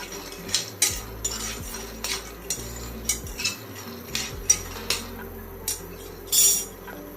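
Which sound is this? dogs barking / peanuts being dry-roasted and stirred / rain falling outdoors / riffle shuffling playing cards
peanuts being dry-roasted and stirred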